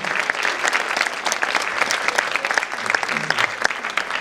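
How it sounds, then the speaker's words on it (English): Applause from a film festival audience at a Q&A for the documentary Spinning Plates, welcoming the chef of the Inn at Little Washington: dense, steady clapping from many hands filling the room throughout, with no pauses. "Let's please give a big round of applause to the short, the chef at Little Washington."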